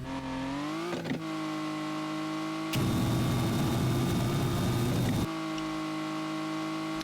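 A car engine drones steadily, then a loud broadband nitrous boost roars for about two and a half seconds before cutting back to the engine hum, in the Horror Drift video game.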